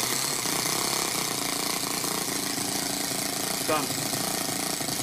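A Toyan FS-S100A miniature four-stroke engine runs with a loud, steady rattling drone, close and unbroken, with a brief word spoken partway through.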